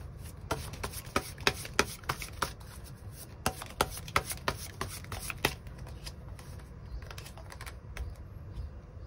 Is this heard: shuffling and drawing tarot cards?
yes